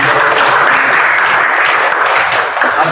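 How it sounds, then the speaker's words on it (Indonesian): An audience at a teachers' presentation bursts into loud, dense applause, sustained clapping from many hands close by with no gaps. "Baik, tepuk tangan."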